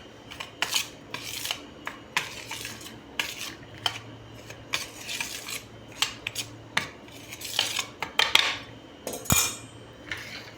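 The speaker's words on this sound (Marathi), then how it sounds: "तर आता आपण हे सगळं मिश्रण आपण यामध्ये घालू, मिक्स करून टाकू आपण." A spoon scrapes and clinks in a bowl as a roasted spice mixture is stirred into cooled oil for a spicy pickle. The taps are quick and irregular, fairly faint and close, with no voices.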